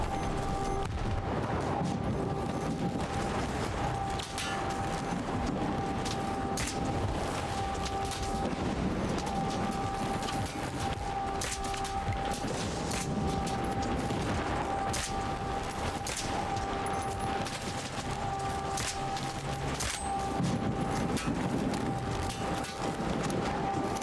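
Dense gunfire with armor-piercing ammo in the video game Stalker 2, rapid repeated shots over a busy, loud background of combat noise, continuous through the stretch.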